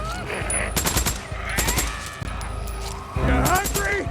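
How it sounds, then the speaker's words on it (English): Video game gunfire in Days Gone: several loud bursts of rapid automatic shots separated by short pauses, with faint background game sounds between them. "We're so close that I can start shooting."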